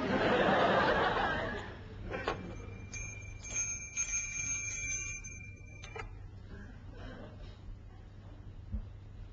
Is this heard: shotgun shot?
no